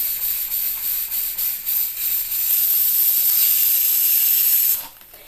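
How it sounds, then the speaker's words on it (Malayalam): A pressure cooker whistling on the stove while bread chicken snacks are prepared, a loud steady steam hiss that holds for about five seconds and then cuts off abruptly near the end. "ഇപ്പം 2 വിസിൽ കേട്ട് ഇനി നമുക്ക് ഓഫ് ചെയ്തിടാം"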